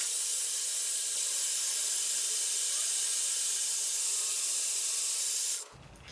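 A Shark Flexstyle hair styler blows at medium heat and high airflow, a loud, steady close-up rush of air that runs without a break for over five seconds before cutting off abruptly.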